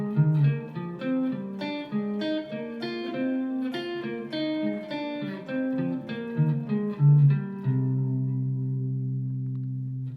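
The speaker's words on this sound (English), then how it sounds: "And you could definitely play the fifth anchor to anchor, a single note at a time." Electric guitar plays minor-scale fifths anchor to anchor one note at a time in a steady, angular line of clear plucked notes, then settles on a sustained final note that rings out, with no one speaking.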